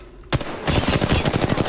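Gunfire in the video game Apex Legends: a single loud shot, then a rapid automatic burst of evenly spaced shots that keeps going, close and punchy.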